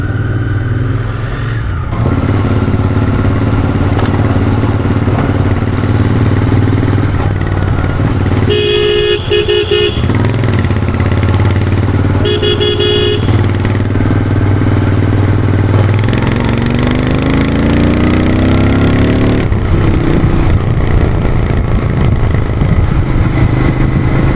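A Royal Enfield Continental GT 650 motorcycle ridden on the road, its engine droning loud and steady from close by. Horns honk twice midway, and the engine pitch shifts as the bike changes speed.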